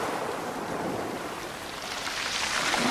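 White-tipped sea waves wash up a beach and drag loose stones back into the water, a continuous broad rushing roar that swells toward the end, with no talk.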